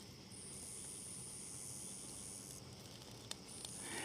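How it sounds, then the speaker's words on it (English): Night crickets and tree frogs trill in a steady high-pitched chorus, faint and continuous, with soft background hiss and no voices. "The crickets and everything, the tree frogs, you can hear them pretty good up here."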